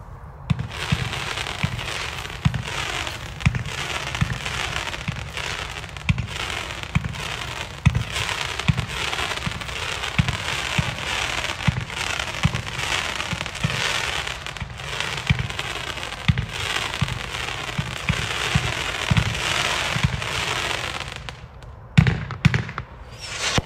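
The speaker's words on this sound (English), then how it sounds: "This is a 36-shot, 200-gram cake." A Shockwave 36-shot, 200-gram consumer firework cake with gold and crackle effects fires a rapid, steady barrage of loud thumping launches and dense crackling bursts for over twenty seconds, with no talk.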